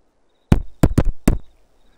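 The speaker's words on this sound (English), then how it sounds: "Let's give him a knock" Four firm knocks on a door in Farming Simulator 22: one blow, a short pause, then three quick raps in close succession, loud and near against otherwise silent background.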